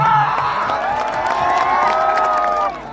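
A wedding crowd cheers and whoops for Ritesh Pandey at a gathering at Ankush Raja's home, a loud, dense roar of shouting voices that holds for a few seconds and then eases off.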